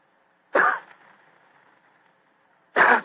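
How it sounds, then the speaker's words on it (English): Two short, throaty coughs a couple of seconds apart, each clear and close, with near silence in between. "he gave what he thought was a discreet cough."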